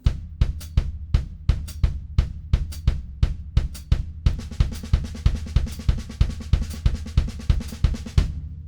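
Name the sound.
drum kit playing nines with bass drum replacing right hand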